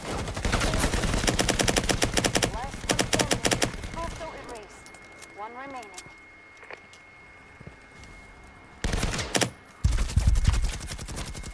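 Bursts of rapid machine gun fire from a first-person shooter, Firewall Zero Hour in VR, loud and sustained in long volleys, pausing for quieter stretches with scattered clicks, then resuming with another heavy burst near the end.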